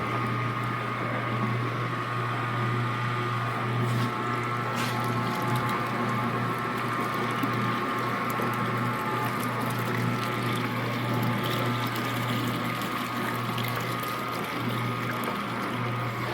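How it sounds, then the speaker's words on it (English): The water diversion mechanism of a Beatty wringer washer runs steadily, a continuous sloshing, pumping wash of water over a low mechanical hum, close and unbroken with no voices. "the water diversion gizmo that goes back and forth here"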